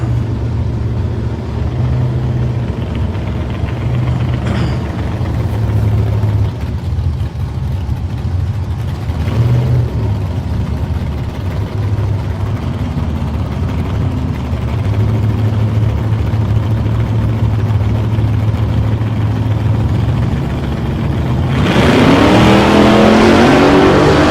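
Drag racing launch of a red 355-powered LH Torana against a 5-litre VL Commodore at a drag strip, with loud, continuous engine roar and revving that rises sharply near the end as the cars leave the line.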